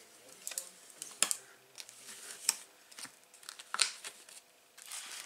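Quiet paper-crafting snips as scissors cut tabs on card stock for a large gift box, several sharp brief clicks spaced irregularly with faint rustling between, close and soft.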